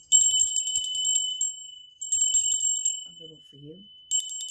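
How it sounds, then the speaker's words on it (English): A small bell rings in three separate bursts, each bright and clear with a short ringing decay, close by; a person speaks briefly in a pause between rings. "I'm going to ring this bell, okay?"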